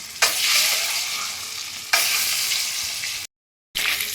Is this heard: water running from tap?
no